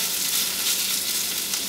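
Onions fry in a pan, giving a steady, close, even sizzling hiss with no pauses and no one talking.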